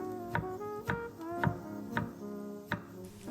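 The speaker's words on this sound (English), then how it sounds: "I'm not peeling it, so it has all the fiber that it has, and I'm dicing it to very small cubes" A knife dices an unpeeled long cucumber into small cubes on a board, giving six crisp, evenly spaced chops close up over a faint steady background hum.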